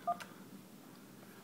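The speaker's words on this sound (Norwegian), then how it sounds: "For det kommer sånne tastelyder når du taster på tastene." A Santok STK 8000 desk phone gives one short keypad beep right at the start, then only a faint, quiet room hush follows.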